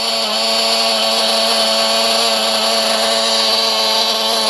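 A Picco .28 nitro engine idles with a loud, steady, high-pitched buzzing drone and a constant tone throughout, with no voices over it.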